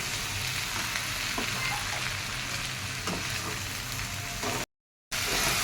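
Roasted mixed sprouts sauté in a hot pan for a usal, giving a steady broadband sizzle with faint spoon scrapes, close and even, broken by a brief silent gap near the end.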